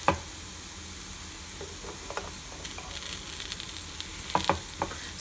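Spinach pakoda frying in a pan as the pieces are turned, a steady close sizzle with small scraping and clicking bursts from the utensil, no voices.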